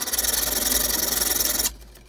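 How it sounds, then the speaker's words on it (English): A hand file rasps steadily across the end of a cut metal threaded rod to flatten it, close and loud, with quick regular back-and-forth strokes before stopping abruptly near the end. "Just going to file the end down to flatten it off."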